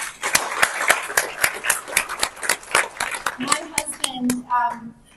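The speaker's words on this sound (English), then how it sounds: "Can we have a round of applause for our brothers?" An audience at a women's entrepreneurship event gives a round of applause, with sharp, evenly spaced claps that sound like a small group nearby, and a voice begins speaking as the clapping fades.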